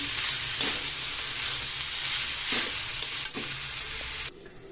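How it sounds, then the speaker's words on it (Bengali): Tomato frying in a pan with vegetables for a drumstick flower ghonto, a close continuous sizzle broken by scraping stirs, ending abruptly in near quiet. "টমেটোটা দিয়ে আমি আরেকটু ভাজবো"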